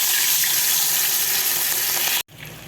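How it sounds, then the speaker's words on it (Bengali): Hilsa fish frying in hot oil in a kadai on a gas stove: a dense, loud, continuous hiss that cuts off abruptly just before the end. "একদিকে গ্যাসের ওভেনে ইলিশ মাছ ভাজা হচ্ছে"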